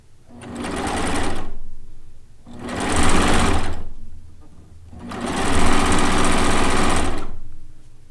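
A cover stitch machine sews a chain stitch with two cones of thread on a quilt top in three loud, close bursts of steady motor whir with brief pauses between them, and no talking.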